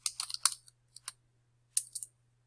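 Quick bursts of keystrokes on a computer keyboard, a short flurry of clicks, a pause, two lone taps, then another brief cluster, crisp and close in a quiet room.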